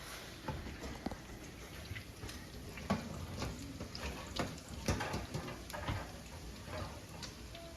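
Cold eggs frying in a hot pan at a barbecue breakfast cook, a faint continuous sizzle with scattered soft crackles and pops, quiet and steady with no talking.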